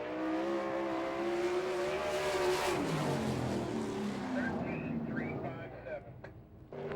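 Sprint car engine howling through a qualifying lap at Fremont, Ohio, loud and wavering in pitch before easing off and fading, with an announcer talking over the end.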